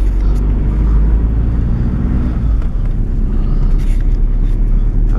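Interior engine drone of a Volkswagen Passat driving on a rural road on a water-hauling run for cattle, a steady low rumble throughout with a slight shift partway through, no talk.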